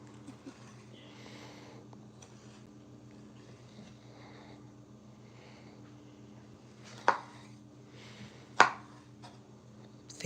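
A knife cuts fresh garden Roma tomatoes into thin slivers on a board, with quiet cutting under a steady low kitchen hum and two sharp knocks near the end.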